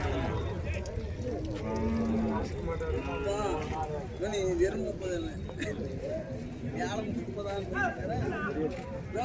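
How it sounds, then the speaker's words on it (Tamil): At a cow market, cattle moo in low, drawn-out calls amid a dense, noisy crowd with constant chatter. "பசுமாடு ஒரு ஜோடி எடுத்துகிட்டு வந்திருக்காங்க"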